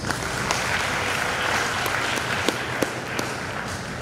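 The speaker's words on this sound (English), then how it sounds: "Let's give you another round of applause." An audience applauds a professor at a live-streamed Universal Greening Organisation event, the clapping dense, steady and sustained throughout, with no pause or break.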